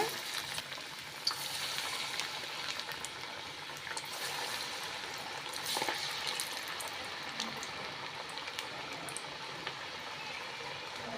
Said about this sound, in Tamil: மீடியம் ஃப்ளேமில் வச்சு பொரிச்சு எடுத்துக்கலாம்